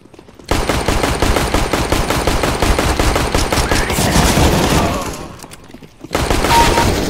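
Rapid gunfire from a shotgun in Counter-Strike: Global Offensive, loud repeated blasts in a fast run lasting several seconds, breaking off briefly before resuming.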